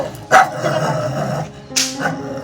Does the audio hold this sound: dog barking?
yes